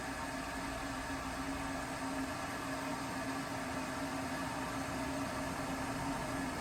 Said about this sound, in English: Right, I can hear it boiling.